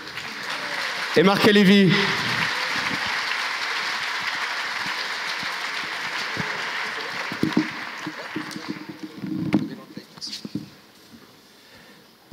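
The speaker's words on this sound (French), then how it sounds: "Applaudi par la foule en délire." Audience at a conference plenary session applauding a guest welcomed onto the stage, a steady wash of clapping lasting several seconds under a presenter's voice, then fading as talk resumes.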